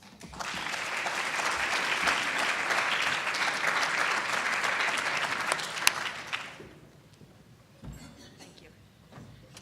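An audience at the Luce Institute's 20th anniversary dinner applauds as Barb Kenney is welcomed, a dense, steady clapping lasting about six seconds before dying away to a quiet room with a few scattered claps.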